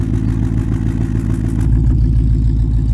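A 1972 Range Rover engine revving up close and loud, a continuous rough mechanical roar with clattering texture that deepens and swells slightly toward the end.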